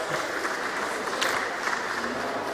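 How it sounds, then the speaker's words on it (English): At a gaming and tech summit, a live audience fills the hall with a steady round of applause, even and continuous from start to end, moderately loud and free of speech. "And a big round of applause, please."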